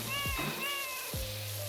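Cartoonish cat meows repeat close and clear while water sprays with a sizzling hiss, as cats are hosed down in PowerWash Simulator 2.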